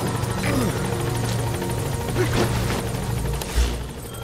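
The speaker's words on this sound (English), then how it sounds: "Support helicopter has arrived." Support helicopter in Metal Gear Solid V arriving at a landing zone, a steady rotor drone with a low thump and a brief louder swell near the end, heard alone without talk.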